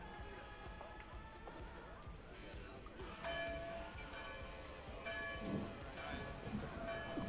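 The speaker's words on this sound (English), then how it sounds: "The church bell rings and everyone comes." A church bell rings in a TV drama scene, its tolls sounding under a bed of other soundtrack noise, with voices talking over parts of it.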